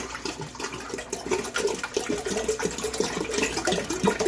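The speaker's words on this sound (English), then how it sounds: "pour a little bit of the water into our small pan for our tea" Water pours and splashes steadily into a pan, a continuous rushing gurgle with no talking.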